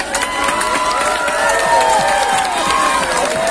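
Concert crowd cheering and clapping for a band's show, a loud, sustained wash of shouts and whoops with applause underneath, voices rising and falling throughout.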